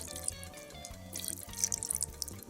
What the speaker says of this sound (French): Je vais rajouter un tout petit peu d'eau.